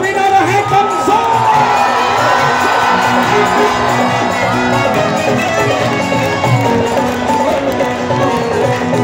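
A crowd at a live Balaji bhajan event during Janmashtami cheers and shouts loudly, many voices whooping and calling out together in a dense, continuous din.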